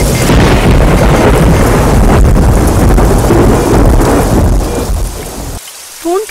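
Heavy rain pours down with rolling thunder in a dubbed movie scene, a dense, loud downpour that drops away near the end, leaving a few faint chirps.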